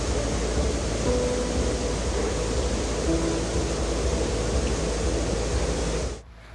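Flooded Acelhuate river in El Salvador during tropical storm Amanda, a steady, dense roar of rushing water that fills the whole clip at constant loudness before cutting off abruptly near the end.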